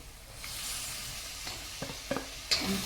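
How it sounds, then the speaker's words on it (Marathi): Black pea gravy with coarsely crushed spices being sautéed and stirred in a kadhai, soft steady sizzle with a few sharp clinks of a spoon against the pan near the end. "दोन मिनटं आता चांगलं परतून घ्यायचं"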